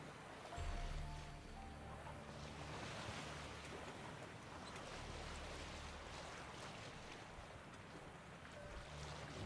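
Boat sailing across open lake water in The Witcher 3, with steady wind and water wash running throughout at an even, moderate level and a faint low hum underneath.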